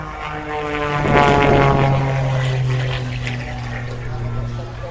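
An aerobatic propeller aircraft flies past with a loud, droning engine note that swells and shifts pitch as it passes, the buzz easing slightly toward the end.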